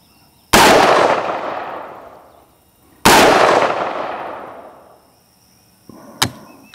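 Two loud, sharp gunshots from a KAK K15 4.75-inch AR pistol, each followed by a long fading echo, spaced a few seconds apart, then a brief mechanical click.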